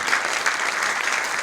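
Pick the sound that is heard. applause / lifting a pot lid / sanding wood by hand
applause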